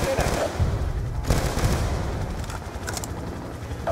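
Rapid automatic gunfire and scattered shots in the Call of Duty: Black Ops 2 campaign at the Spectre base crackle continuously at a moderate distance, with faint speech mixed underneath.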